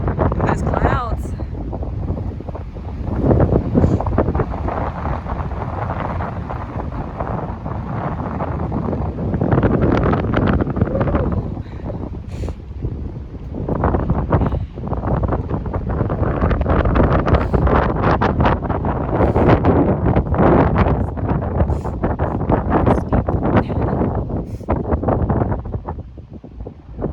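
Strong wind buffets the microphone on the mountain summit of Pinnacle Knob, a loud, continuous roaring rush with gusts that swell and ease throughout, heard alone with no speech.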